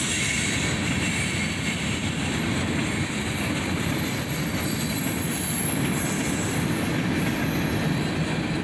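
A southbound freight train led by a pair of EMD SD42 locomotives, one built for Conrail, rolls past in a loud, continuous rumble of wheels and clatter, with steady high squeal over the whole stretch.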